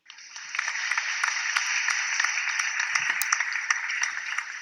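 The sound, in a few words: applause sound file played by an app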